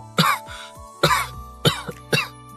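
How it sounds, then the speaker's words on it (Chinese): Four sharp, harsh coughs come at roughly even intervals, close and loud, used as a sound effect in a Chinese audiobook drama, with quiet gaps between them and no speech. "会突然咳嗽起来"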